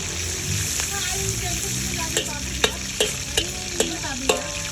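Onion and garlic sautéing in a pan for a stir-fry of okra and sponge gourd, a steady sizzle broken by several sharp scrapes and taps of a utensil against the pan.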